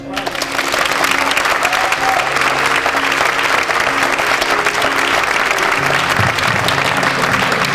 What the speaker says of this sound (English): Let's give a nice warm applause for Dr. Bullard.